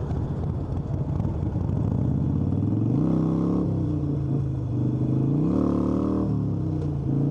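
A Harley motorcycle engine revs in first gear, a loud, close, rumbling idle punctuated by two distinct throttle blips that rise and fall, with mechanical clatter underneath.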